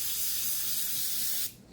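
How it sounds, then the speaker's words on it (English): An airbrush sprays gray paint in a steady, close hiss for about a second and a half, then cuts off abruptly into quiet. "and then I'm going to take my airbrush with the gray"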